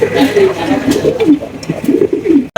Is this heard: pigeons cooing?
yes